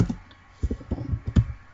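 Keys on a computer keyboard are typed to enter a chat command while playing an online game, a short close run of quick clicks and taps, some louder than others.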